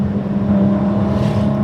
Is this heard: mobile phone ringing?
no